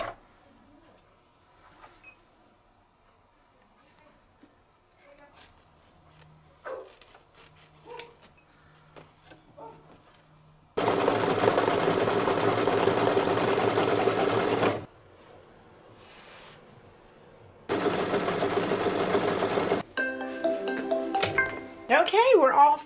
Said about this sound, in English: it's going to stitch the exact same thing again on the second pocket for the oven mitt